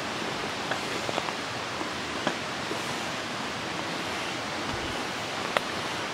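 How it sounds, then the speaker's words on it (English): Creek running through a pine forest, a steady broadband wash of flowing water heard close by and softly, with a few faint clicks and rustles over it. "right beside a nice creek, running nice, good water"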